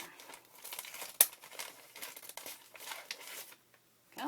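Small scissors cutting through two folded layers of a paper bag: crinkling, crisp snips and paper rustle in irregular bursts, one sharp snap early, fading near the end.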